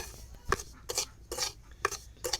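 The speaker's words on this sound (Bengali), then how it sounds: "ঘি দিয়ে সুজিটা ভালো করে ভেজে নেব" Semolina being fried in ghee in a pan: five distinct scraping strokes of a spatula against the metal, each with a light clink, close and evenly spaced over a quiet background.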